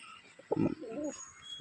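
A Giribaz pigeon gives a short, close coo, one low throaty burst followed by a softer rolling call, heard over a faint background hum with no talking.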